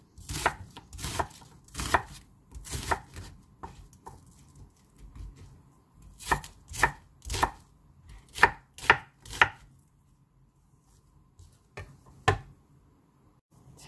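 A knife chops a small onion on a cutting board in crisp, close knocks. They come in quick bursts of several strokes with short pauses between them, and the kitchen around them is otherwise quiet.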